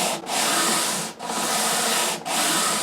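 Sandpaper of 120 grit rubs back and forth over the wood of a 10-string classical guitar, three long close scraping strokes separated by brief pauses.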